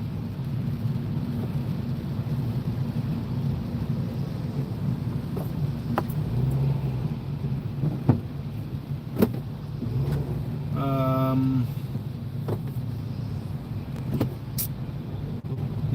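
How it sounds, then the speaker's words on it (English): Road traffic rumbles steadily and continuously as cars pass close by, with a few sharp clicks and a brief whine partway through. "See? Still traffic."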